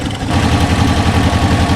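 A 1968 Porsche 912 engine idles steadily and loudly with a low rhythmic chug, running alone without any voices.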